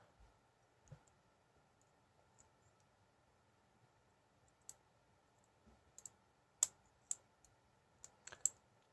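A Sepox lock being picked with a tension wrench gives quiet, sparse metallic clicks and ticks over a near-silent background, with a handful of sharper clicks clustered toward the end.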